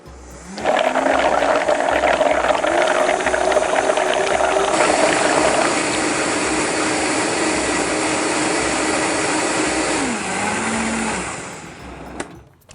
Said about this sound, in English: once you do put it into the Vitamix canister, you want to blend it for about 2 minutes